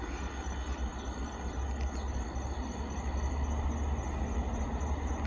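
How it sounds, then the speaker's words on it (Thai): Express train 111 from Bangkok Krung Thep Aphiwat to Den Chai passing kilometre post 507 near Pang Ton Phueng station. It makes a continuous broadband rumble and hiss that swells slightly, with insects chirring over it and no voices. "เสียงของขบวนรถเร็วขบวนที่111กรุงเทพอภิวัฒน์ปลายทางสถานีเด่นชัยกำลังผ่านหลักกิโลเมตรที่507"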